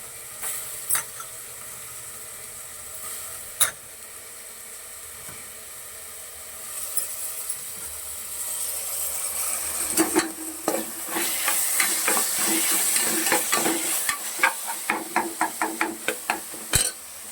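Soaked, rinsed green peas go into a hot pan for vegetable biryani. The pan sizzles and fries, rising from quiet to a steady hiss, with scraping and clinking stirring strokes through the second half.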